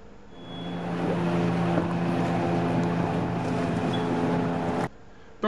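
A motorboat engine on a river in Guatemala drones steadily nearby, with a low rumble and water noise, then cuts off abruptly near the end.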